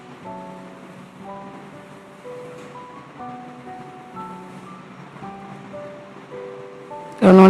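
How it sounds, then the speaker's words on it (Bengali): Ginger garlic paste fries in a pan for khichuri with a steady, soft sizzling hiss under gentle background music, then a sudden loud burst of crackle right at the end. "আদা রসুনটা ভালো মতো কষিয়ে নেব।"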